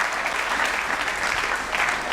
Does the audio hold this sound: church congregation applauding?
yes